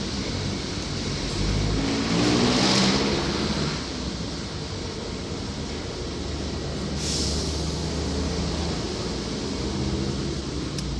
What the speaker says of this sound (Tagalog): Ganyan ang sitwasyon din ng traffic dito sa Sukat, Baliwan.